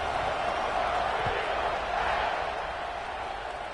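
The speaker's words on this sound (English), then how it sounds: "this crowd is buzzing after that last score" A stadium crowd in a college football video game keeps up a loud, steady roar and murmur at an even level throughout, with no pauses.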